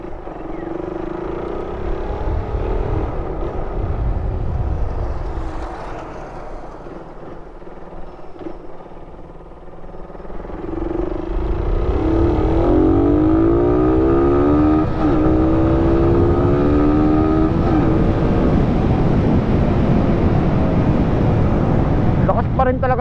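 A Suzuki Raider 150 carbureted motorcycle fitted with a silver canister exhaust roars up close on a road test along a road. The engine revs rise and fall with a steady throaty drone and swell louder in the second half.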